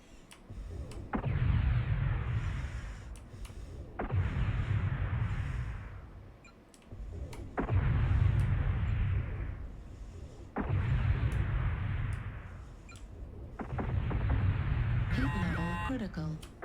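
Five heavy weapon volleys from a light SRM mech in MechWarrior Online, each a loud booming burst lasting about two seconds with crackling missile impacts, spaced evenly with brief gaps between them.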